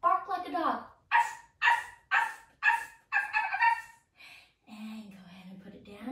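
Yoga participants bark like dogs while holding a three-legged dog pose, a series of short, loud vocal woofs in a quick rhythmic run, followed by a lower hum; these are human voices imitating a dog.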